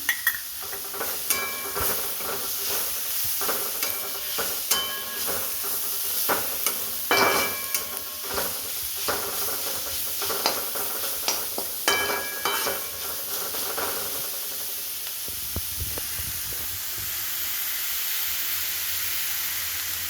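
Keerai greens curry sautéing in a pan, with steady sizzling and frying hiss under repeated stirring scrapes and clinks, loud and close, settling toward a softer simmer near the end.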